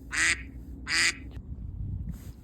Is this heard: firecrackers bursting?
no